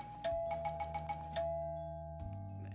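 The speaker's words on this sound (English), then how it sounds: "I've always liked the little chime that rings out whenever someone comes to visit me." A two-tone doorbell ding-dong chime in a visual novel video game rings out clearly over a soft music bed, followed by a lower sustained tone.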